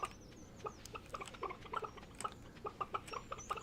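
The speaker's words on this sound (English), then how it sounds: "Oh, listen to them bok-bocking." Chickens in the Stardew Valley farming game cluck in short, bouncy repeated bok calls, scattered and overlapping at moderate volume over soft background game ambience.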